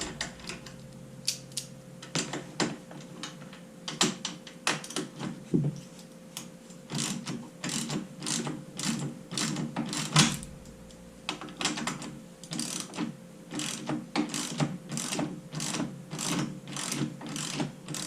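A ratchet wrench with a swivel head loosens bolts on a four-wheeler, its rapid clicking bursts repeating in close, clear runs with brief pauses between strokes.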